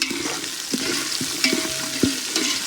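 Onions brown in oil with bay leaves, cloves and cinnamon stick for green chilli chicken pulao, a close steady sizzle punctuated by a few sharp scrapes and knocks of stirring.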